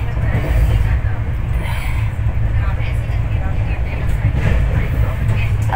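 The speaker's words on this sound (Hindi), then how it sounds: "ट्रेन खुल गई है" Inside a train leaving for Mumbai, a steady low rumble and clatter of the carriage getting under way fills the space, with a voice talking over the noise throughout.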